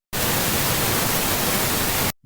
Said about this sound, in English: pink noise